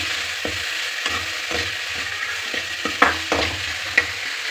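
Ginger and garlic frying in a pan for a paneer peas masala, a steady close sizzle broken by regular scraping stirs of a spoon, with a couple of sharper clicks near the end; no voices.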